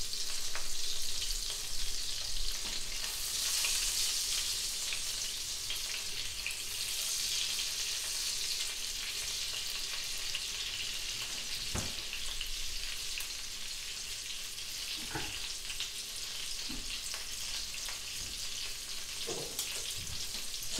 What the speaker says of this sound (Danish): Mit margarine det er smeltet, og jeg er klar til at komme mine karbonader på panden.